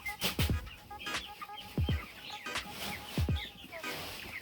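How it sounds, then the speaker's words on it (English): Chickens in a farm's fowl coop clucking and calling nearby, a series of short, repeated throaty clucks with some overlapping calls and no talking. "Let's go and see what's going on over in the fowl coop."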